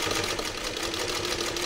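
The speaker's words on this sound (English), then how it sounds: "here we go with Sandra's 301A, and we're sewing genuine cowhide leather" A Singer 301A sewing machine stitches genuine cowhide leather, running as a fast continuous mechanical chatter with rapid rhythmic clicking, close and fairly loud throughout.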